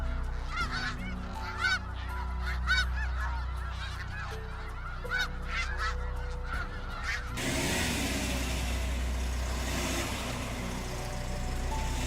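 Canada geese honk repeatedly in a noisy flock over a low traffic rumble, then the honking gives way to steady broadband road noise.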